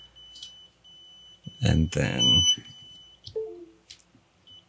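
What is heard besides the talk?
drone flight controller beeper beeping from low USB voltage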